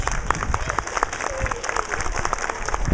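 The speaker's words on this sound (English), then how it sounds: "Let's have one more huge round of applause for Janet and the foundation." Audience applause for Janet and a foundation at a school STEAM lab ribbon-cutting ceremony, steady dense clapping from a crowd lasting throughout with a few faint voices mixed in.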